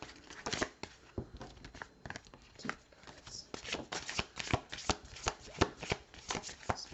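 Tarot cards are shuffled by hand in a steady, crisp riffle and flutter of paper edges, close up and continuous, with irregular bursts of sharper slaps throughout.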